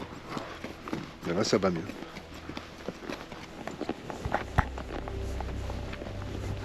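A nervous horse walks down into a desert valley in Kyrgyzstan, its hooves clopping in an irregular rhythm close by while people talk over the steps.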